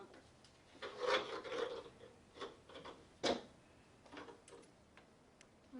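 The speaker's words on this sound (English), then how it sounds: "you want to take off these 2 screws and these 2 screws right here" Small screws being loosened from the bumper of a Team LOSI TEN-SCTE RC truck, with faint scattered ticks, scrapes and rubbing clicks close to the mic, quiet and irregular with no talking.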